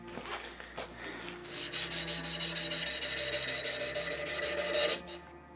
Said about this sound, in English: And the last step is hand sanding.